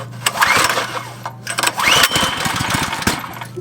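Two pull-start attempts on the small gas engine of a DIY power washer, each a sharp whirring rasp, followed by a brief rough engine sputter over a low background hum.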